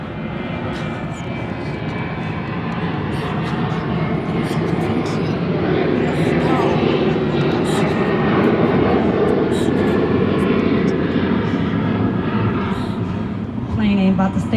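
A fixed-wing airplane flying overhead gives a steady, broad engine roar that swells gradually and holds for the whole stretch, with someone talking over it.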